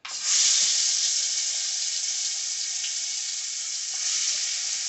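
Goat meat sizzles and fries steadily in Jamaican curry in a hot pan, a loud, continuous hiss close by with no talking.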